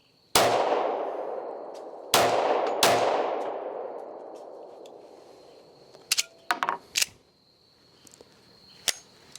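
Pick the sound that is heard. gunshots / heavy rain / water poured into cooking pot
gunshots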